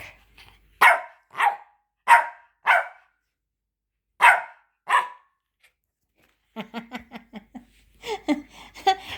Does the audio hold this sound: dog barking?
yes